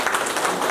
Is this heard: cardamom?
no